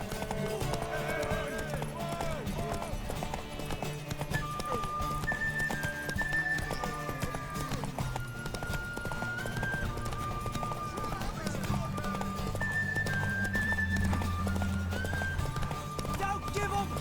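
Hooves clip-clop in a fast galloping rhythm under game music and effects in The Witcher 3: Wild Hunt, with voices talking and calling out over the ride.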